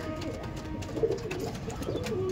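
Soft cooing of Madrasi pigeons rises briefly over a murky, noisy background, a couple of low warbling calls without any talking.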